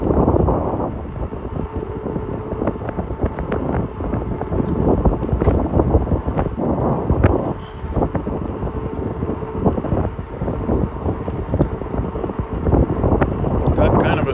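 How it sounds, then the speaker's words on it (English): Strong south wind roars across the microphone while riding a bike straight into it, a steady loud buffeting rumble that fills the whole stretch with brief dips. "Got kind of a south wind today, so we're going right into the wind right now"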